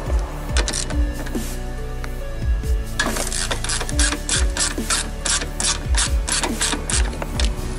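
Ratchet wrench loosening 10 mm headlight housing bolts on a 2011-2014 Subaru WRX, rapid mechanical clicking in repeated bursts with brief pauses between strokes, close and distinct.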